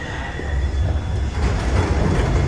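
London Underground Bakerloo line train standing at Piccadilly Circus station, a steady loud low rumble and hiss of the train and platform ambience running throughout with no talk.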